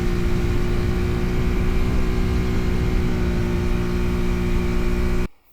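A Shineray Spring X 50cc cub motorcycle runs under way, its engine giving a steady, loud droning hum with strong low harmonics for about five seconds before cutting off abruptly.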